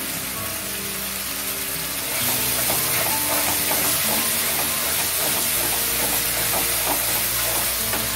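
Masala spices frying in a pan for a dhaba-style aloo gobhi matar sabji give a steady, close hiss and sizzle that grows louder after about two seconds and keeps going with no talking.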